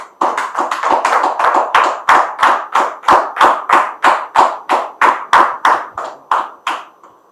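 A crowd claps in unison to a steady beat, around twenty sharp, evenly spaced claps, loud and close with no voices.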